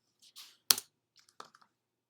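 A computer keyboard is typed on during work in an Excel spreadsheet: a few faint, sparse, irregular key clicks, one sharper than the rest, with silence between them.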